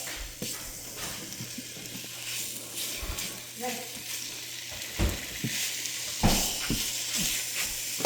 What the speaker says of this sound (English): So you want to cook the meat until they're less stringy